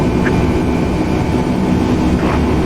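Loud, steady aircraft engine drone in Microsoft Flight Simulator X on a flight from Los Angeles to Las Vegas, a constant low roar filling the whole stretch with no talk over it.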